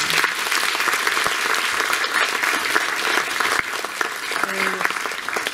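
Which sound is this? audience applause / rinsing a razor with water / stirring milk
audience applause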